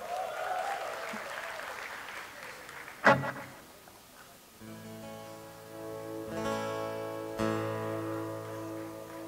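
An audience at a live concert in Jakarta applauds, a moderate burst of clapping that fades as a sustained, tonal instrument sound takes over, with a couple of sharp hits standing out.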